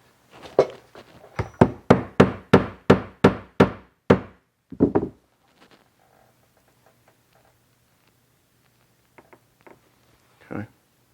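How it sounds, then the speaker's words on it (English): A hammer gently taps a magnet into bubinga wood, giving about ten evenly spaced, crisp knocks in a quick run, then a few scattered fainter taps after silence, close up, with a brief voice at the start. "I'm just going to get a hammer"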